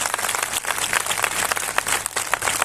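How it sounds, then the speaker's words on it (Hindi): Worshippers at a Christian convention in Umarpata clap loudly in thanks. The applause is thick and sustained, with many hands filling the room, and no speech is heard. "जोर से ताली बजा के धन्यवाद दें।"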